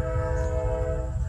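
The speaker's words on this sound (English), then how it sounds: "I didn't expect the train to be coming." A passing train rumbles loudly and steadily close by, its horn or whistle sounding as a sustained tonal blare over the heavy low roar of the rail cars, with no voices.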